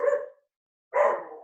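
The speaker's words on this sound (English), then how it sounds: "Do you hear Ruffle barking?" Dog barking somewhere in the house, two short clear barks separated by a brief silence, moderately close, with nothing else audible around them.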